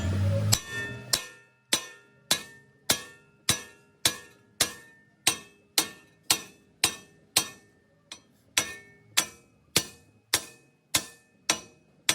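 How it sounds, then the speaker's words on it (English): Repeated hammer blows on a rusted Ford Explorer front hub to knock the axle loose, about twenty sharp metallic strikes at a steady rhythm, close and loud, with no talking. "Now you just want to get it there and hit it till it comes off, basically."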